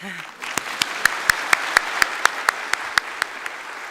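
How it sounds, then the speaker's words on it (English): Audience applause at an academic year inauguration at a university's engineering faculty, a steady wash of clapping marked by a regular series of sharp, prominent claps about four times a second near the front. "Applause, please."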